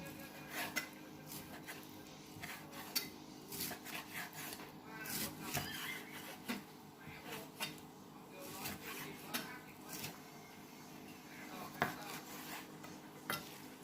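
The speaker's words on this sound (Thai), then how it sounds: "มาหั่นหมูกันค่ะ" Repeated knife strikes and scraping as pork is chopped on a cutting board, with clattering kitchenware, steady and close by.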